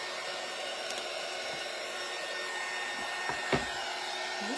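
A hair dryer runs steadily, drying wet paint on a craft pumpkin from a fall holiday craft kit. It makes a constant, moderately close whir with a couple of faint knocks near the end, and no one speaks.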